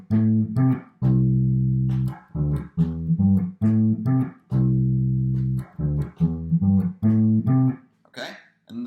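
An electric bass plays a riff, heard alone and close, with repeated low plucked notes in a bouncing, rhythmic figure and short gaps between phrases.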